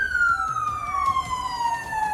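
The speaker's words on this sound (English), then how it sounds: "Cut your sirens!" A police car siren wails loudly and steadily, its pitch sweeping slowly downward, with engine rumble underneath during a traffic stop.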